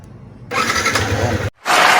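A motorcycle engine cranks and catches after the kill switch is set, bursting into a loud steady idle, cutting out briefly, then roaring back even louder near the end.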